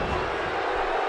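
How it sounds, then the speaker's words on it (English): Wrestling arena crowd cheering and roaring steadily during an Undertaker versus Bray Wyatt match, a dense, continuous wall of loud crowd noise. "by the sound of this crowd"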